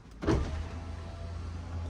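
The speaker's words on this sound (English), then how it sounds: "Windows roll down automatically just to give it enough space to close the roof." Power windows on a 2019 Ferrari Portofino lower automatically, a short soft motor whir starting with a faint click and continuing steadily at low volume, heard up close inside the car.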